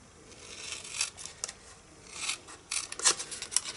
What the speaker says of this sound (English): Okay, cut up to the score line, and we're done.